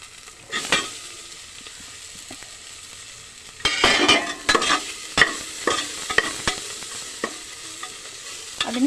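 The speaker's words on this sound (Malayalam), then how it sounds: "അപ്പോൾ അതിലേക്ക് ഇനി കിഴങ്ങ് ഇട്ട് കൊടുക്കാവേ." Potatoes frying with onions in a pan and being stirred, with a soft sizzle under it. Quiet at first, then a run of clattering scrapes and knocks from the stirring, heard up close with no voices.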